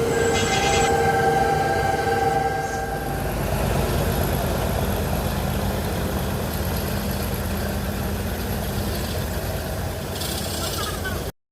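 A port train rumbles steadily past nearby, loud and continuous, with wheels clattering, a horn sounding at the start and a squeal near the end.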